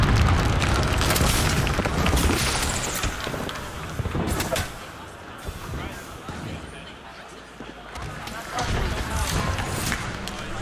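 Bangalore's ultimate artillery bombardment in Apex Legends, a series of heavy booming explosions thudding in irregular bursts, mixed with gameplay noise and excited talk over the top.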